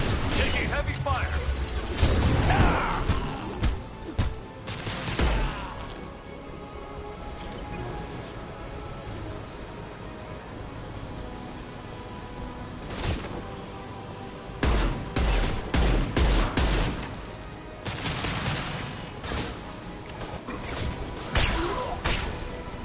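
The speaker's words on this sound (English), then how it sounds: "Taking heavy fire!" Heavy gunfire in the Mass Effect 2 video game, dense bursts of close, loud shots in two clusters separated by a quieter stretch, with crashes and whooshes mixed in.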